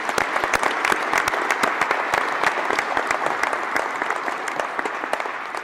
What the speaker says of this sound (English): So big round of applause, perhaps everyone, for the folks here at IMP.